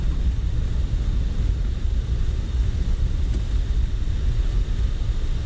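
An airliner in Microsoft Flight Simulator rolls down the runway after touchdown under maximum braking, with a loud, continuous low rumble and broadband roar that stays steady throughout.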